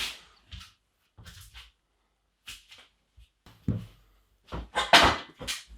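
A chair is moved around indoors, making a series of short, close knocks and clunks separated by silent pauses, with a louder cluster of scrapes and bumps near the end.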